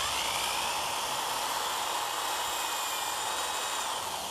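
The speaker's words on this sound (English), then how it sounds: "Now if I'm making a big amount, I often would use a drill." A steady, high-pitched whine of a power drill boring continuously into a hard calabash gourd, close and unbroken for several seconds.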